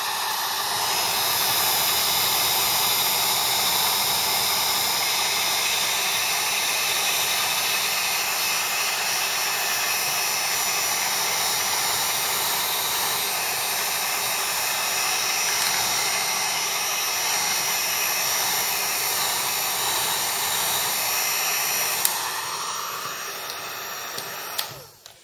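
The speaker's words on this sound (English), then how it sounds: "I'm going to go ahead and grab my heat gun." A heat gun blows steadily on vinyl car wrap, a loud continuous airy roar with a hiss that holds for over twenty seconds before cutting off near the end; no talk.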